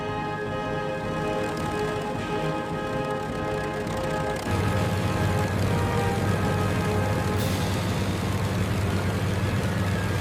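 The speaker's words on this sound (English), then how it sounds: "both engines idling smoothly." The twin engines of a restored P-38 Lightning aircraft idle on the ground, a steady, dense, droning rumble with a tonal hum that grows slightly louder and rougher partway through, close and continuous.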